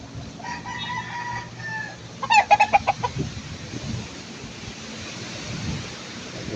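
Chickens and gamecock stags cluck and chatter nearby while a rooster lets out a loud, clear crow partway through, over a steady background hum.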